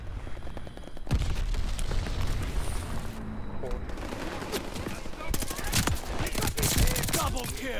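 Rapid bursts of Thompson submachine gun fire in the video game Call of Duty Vanguard, with dense, loud chattering volleys and sharp crack-like hits over a steady rumble of game noise, and speech heard at times.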